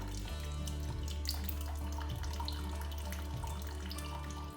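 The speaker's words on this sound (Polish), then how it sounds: "Odcedzamy nasz tutaj serek. O, zobaczcie. To nam ładnie ucieka." Whey drains steadily from homemade mozzarella-style white cheese as it is strained, a continuous close pouring and trickling of liquid throughout.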